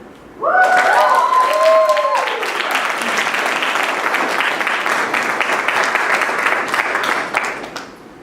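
An audience applauds a performer with a surge of clapping that starts abruptly and holds steady for several seconds before fading; a sung or spoken tone trails off at the very start.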